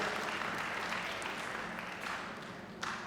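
An audience at an astrology lecture in Kurukshetra claps steadily and fairly briskly, a soft, even wash of applause heard from a distance and tapering slightly toward the end.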